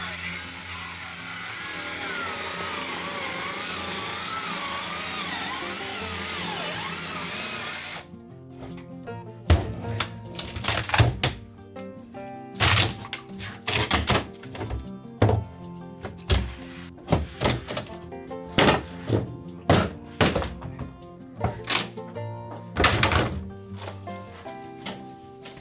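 A carpenter breaks up a wooden floor in a home renovation with a chisel and power tools. A steady tool drone comes first, then irregular loud thunks, cracks and splintering blows close by.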